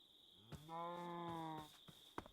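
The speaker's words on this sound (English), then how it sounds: "There's a cow somewhere." A cow moos from somewhere below inside a building, one sustained mid-distance low call lasting about a second under steady background hum, with a few faint knocks around it.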